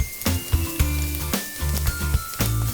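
Chopped onion and curry leaves sizzle in a hot pan of oil, a steady hiss broken by repeated low thumps and clatter of stirring, close and fairly loud with no talk.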